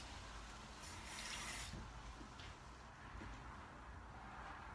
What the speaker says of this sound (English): Put a little more water in this.